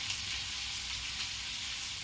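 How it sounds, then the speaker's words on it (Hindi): Boiled potatoes fry in a pan for a home-cooked potato and pea curry, giving a steady, close hiss of sizzling oil that holds evenly throughout with no talk. "इसे मैं 2-3 मिनट भूनूंगी।"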